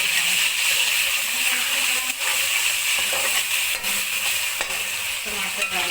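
Garlic, ginger and tomato frying for Pakistani daal mash, a steady close sizzle and hiss with stirring scrapes throughout, no voices.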